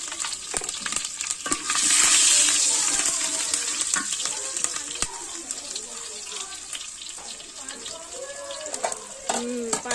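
Whole garam masala and slit green chillies drop into hot oil, which flares into a loud sizzle that then settles into a steady crackle with clinks and stirring, under intermittent talk.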